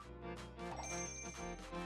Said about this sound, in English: Yep, sounds like a jingle bell.